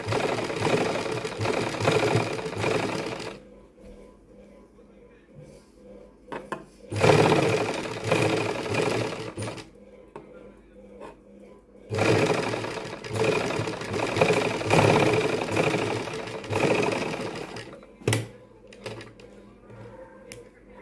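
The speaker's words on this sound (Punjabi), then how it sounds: "ਕੰਨੀ ਕੰਨੀ ਚਲਾਵਾਂਗੇ ਸਲਾਈ ਇਸ ਤਰ੍ਹਾਂ" A sewing machine stitches lace along the edge of suit fabric, running in three long rattling bursts separated by quieter pauses, close and loud with faint talk in the gaps.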